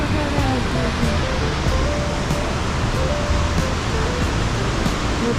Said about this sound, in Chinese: 从那边下车之后，是瀑布，漂亮的瀑布。